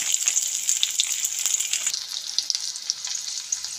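Potatoes fry with cumin, chili and coriander powder in a pan, a close, steady bright sizzle with crackling pops and brief stirring sounds, heard alone without talk.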